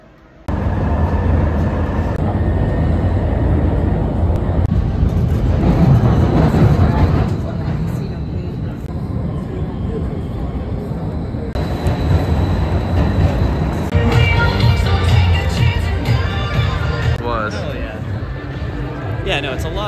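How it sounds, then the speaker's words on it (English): A St. Louis MetroLink light-rail train rumbles along with a steady rolling drone, rattling carriage noise and bursts of squealing wheels, while passengers talk inside the car throughout. "So we're gonna take a metro train to downtown St. Louis."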